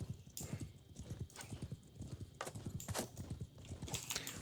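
Hooves of a horse in a video game galloping in a steady, rapid clip-clop rhythm, close and continuous throughout, with a brief whinny mixed in.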